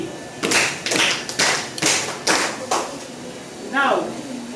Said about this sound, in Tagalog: bigyan naman natin ng 5 palakpak ang ating mga sarili